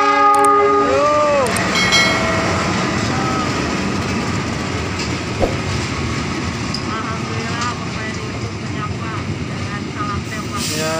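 A train rumbles into platform 2 at Tasikmalaya station at night with a brief horn blast at the start, then steady wheel and engine noise and squealing as it slows.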